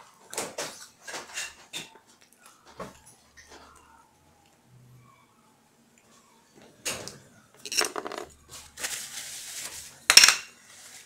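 Peanuts clatter and rattle into a blender jar in several bursts, separated by quiet pauses, with a louder pour near the end.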